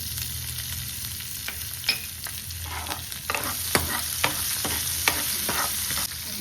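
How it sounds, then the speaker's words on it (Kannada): Mustard seeds, asafoetida, crushed garlic and green chillies sizzling in hot oil, a continuous close crackle with sharp pops and spatters scattered through it, plus a few utensil knocks; no voices. "ಇನ್ನು ಈ ಆಯಿಲ್ಗೆ ಸಾಸಿವೆ, ಸ್ವಲ್ಪ ಹಿಂಗು, ಜಜ್ಜಿರೋ ಬೆಳ್ಳುಳ್ಳಿ ಮತ್ತು ಮೆಣಸಿನ್ಕಾಯಿ ಹಾಕ್ತಾ ಇದ್ದೀನಿ"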